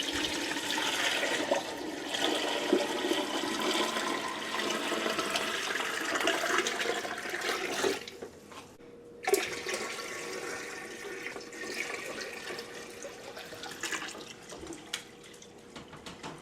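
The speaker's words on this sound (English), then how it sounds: "So I'm just gonna pour in water" Water pours in a loud steady rush into a canning pot over jars of cherry pie filling, pausing briefly midway before resuming with splashing and trickling.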